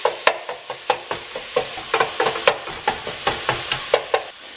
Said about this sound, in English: Time to stir up the sausage here.